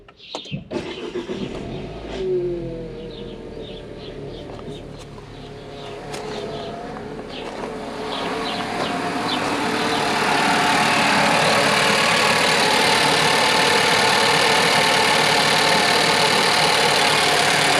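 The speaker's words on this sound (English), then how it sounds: "I'll start the car up for you so you can hear and see what I'm talking about" A Nissan Pulsar 1.2 DIG-T engine cranks and fires, then settles into a rough, uneven idle with a faint knock, the steady running growing slightly louder and filling the close-up recording.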